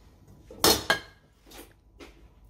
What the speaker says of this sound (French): Je suis en train de chauffer la casserole là.